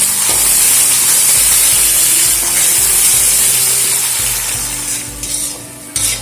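Carrots and peas fry together in a hot pan, giving a loud, steady hiss of sizzling with bursts of stirring scrapes throughout.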